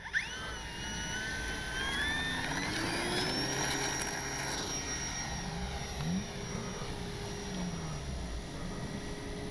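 A Durafly 1100mm T-28 RC airplane flies in the evening, its motor giving a steady, sustained whine with rising and falling pitch sweeps as it passes, fairly distant and continuous throughout.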